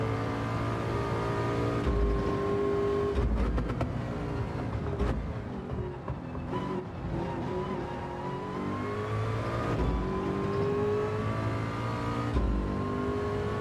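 Race car engine in Gran Turismo 7, droning steadily at high revs with rising and falling pitch through gear changes, braking and corners, loud and continuous with no talk over it.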